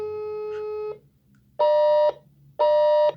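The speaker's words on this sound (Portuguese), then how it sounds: "deu 2 bips, significa que eu já estou em comunicação" A Brazilian XPE 1001 intercom placing a call to apartment 104 gives a steady electronic tone, then two loud, evenly spaced beeps confirming the line is connected, all clean and close with no talking.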